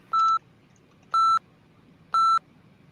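Countdown timer beeping three times, evenly spaced about a second apart, each beep a short clear electronic tone over quiet room background.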